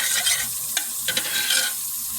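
A food mixture is stirred in a pot cooking uncovered on the stove, with soft scraping and sloshing strokes over a steady sizzle, close and continuous for a couple of seconds.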